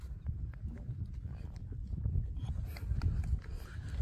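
A horse walks along a desert trail toward a beach on a horseback ride, its hooves giving faint, irregular clip-clops over low rumbling wind noise, with occasional quiet voices nearby.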